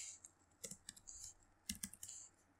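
Computer keyboard typing in short bursts of crisp, close key clicks, a few quick strokes then a longer cluster, quiet and without talk.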